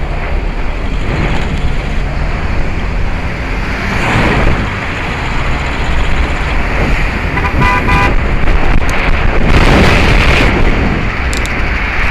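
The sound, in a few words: car horn honking in traffic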